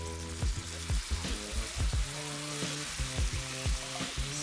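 Two cans of black beans tipped into a hot pan, a wet bubbling sizzle broken by a run of rhythmic scraping and knocking strokes, close up with no voices.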